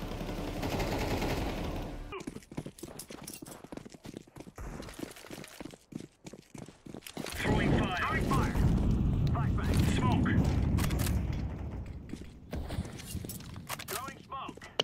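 Repeated gunfire in the competitive shooter Counter-Strike 2, a run of sharp shots in quick succession among other game effects and mechanical clatter, fairly loud and close with a voice talking over parts of it.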